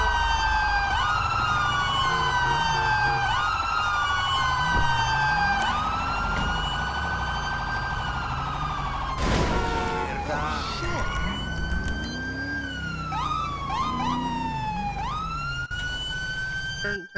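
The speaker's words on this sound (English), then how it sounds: "Turn your siren off." A police car siren in a FivePD roleplay game wails continuously, sweeping up and down in loud, overlapping cycles, with a brief burst of noise midway and engine rumble beneath.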